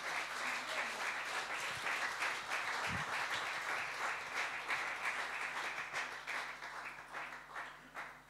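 A church congregation applauds together, a steady, dense wash of clapping that carries through the whole stretch at moderate volume without any talk.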